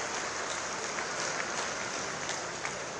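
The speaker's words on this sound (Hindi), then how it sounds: "जोरदार तालियों के साथ स्वागत" A crowd at a ceremony in Meerut, where the Vice President unveils a statue, gives a warm welcome with continuous, dense applause that holds at an even level.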